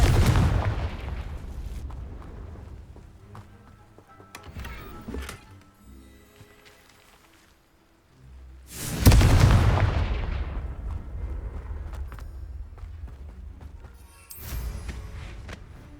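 Confringo fire spells in the game Hogwarts Legacy go off as three heavy booming explosions spaced seconds apart, each with a long crackling rumble that fades.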